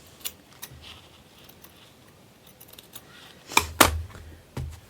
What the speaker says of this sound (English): Just going to trim that down again.